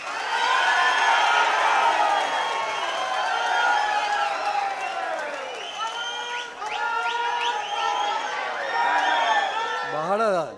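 A big crowd at a political rally for an independent Lok Sabha candidate in Shivamogga claps, whistles and cheers loudly and continuously, with shouts rising and falling and a final rising whistle at the end.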